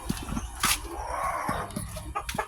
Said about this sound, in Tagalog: May manok pa pala dito guys.